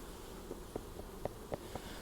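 A steady, low hum from a crowd of honey bees inside a nucleus hive. Several brief taps and clicks rise over it, close by, with no voices.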